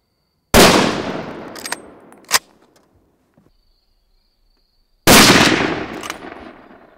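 Two loud, close rifle shots ring out during control shooting on a Romanian roebuck hunt, each a sharp crack followed by a rolling echo, spaced several seconds apart with a small metallic clack between them.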